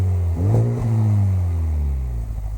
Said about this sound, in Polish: Pozostaje jeszcze nieco denerwujący, dudniący pogłos wydobywający się z rur.